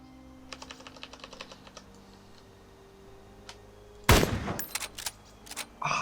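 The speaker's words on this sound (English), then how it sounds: "I'm just going to do a practice shot so you know what it sounds like" A single loud rifle shot in DayZ Standalone 0.57 cracks out and reverberates after several seconds of quick keyboard taps, followed by a few further sharp clicks and a second burst near the end.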